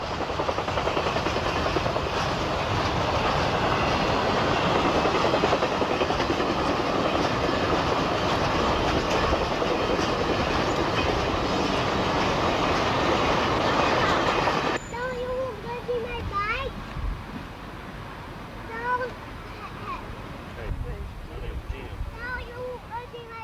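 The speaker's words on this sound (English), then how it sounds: "Ed documented his longest Triple Crown train to date with a solo GP50 in charge of the consist." A long Norfolk Southern Triple Crown train led by a single GP50 diesel locomotive rumbles past loudly for the first stretch, then cuts off abruptly, leaving quieter background sounds.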